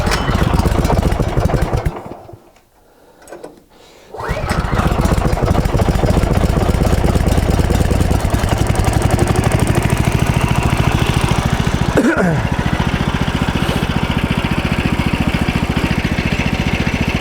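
The gas engine of a Woodland Mills HM130 bandsaw sawmill runs loud and close, a steady chugging roar that briefly dips to near quiet before revving back up and holding.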